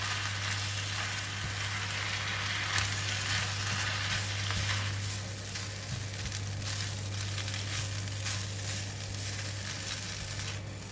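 Onion fried rice with light soy sauce, oyster sauce and sesame oil sizzles steadily in a hot pan, with a continuous close frying hiss and scraping stir sounds from the spatula, without talk.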